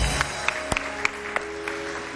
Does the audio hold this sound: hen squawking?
no